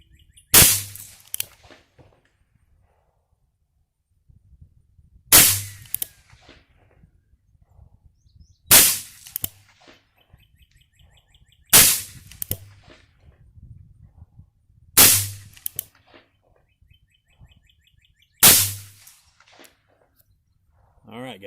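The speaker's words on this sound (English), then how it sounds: "I'll be shooting the 9mm" Six loud gunshots from a Ruger Blackhawk convertible revolver firing 9mm XTP rounds, spaced a few seconds apart, each a sharp crack with a short ringing tail outdoors at a target range.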